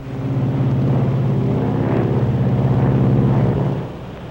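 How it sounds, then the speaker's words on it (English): Propeller engines on a U.S. Navy aircraft drone in a loud, steady, throbbing hum during a power demonstration, holding for several seconds before easing down. "Now I'm going to show you the most amazing demonstration of power in an airplane you've ever seen."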